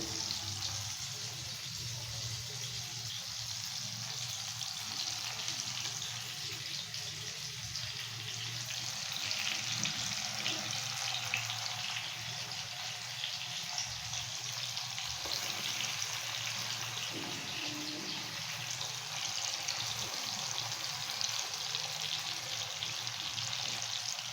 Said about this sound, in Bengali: এবার দিয়ে দেব কড়াইতে এই ম্যারিনেট করা ইলিশ মাছের টুকরোগুলো।